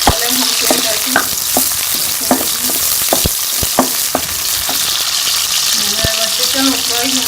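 Chicken frying and browning in a pan, a loud continuous sizzle close by with repeated clinks and scrapes of a utensil stirring through it.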